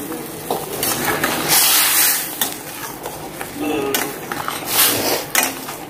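A Bengali fish curry simmers in a pan while a spoon stirs and scrapes through it, giving repeated bursts of scraping and bubbling over a steady sizzle and a few metal clinks.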